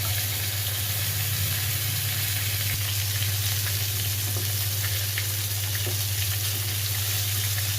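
Eggplant slices fry in hot oil, giving a steady, close, even sizzle that holds throughout with a low constant hum beneath it and no talking.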